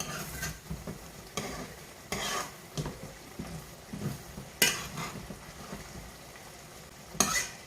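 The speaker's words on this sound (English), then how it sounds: "Mix the rice." Rice being stirred into beef frying in a pan over medium-low heat, with repeated scraping strokes of a utensil over a steady close sizzle and occasional louder clinks against the pan.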